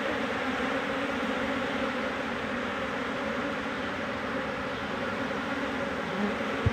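A swarm of Apis cerana honeybees buzzes continuously while being coaxed into a box, a dense steady drone close by with no talk.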